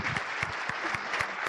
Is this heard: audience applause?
yes